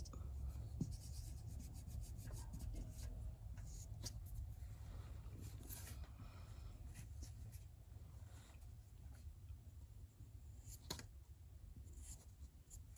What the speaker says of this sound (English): I'm going to take my eraser and I'm going to go clean them up.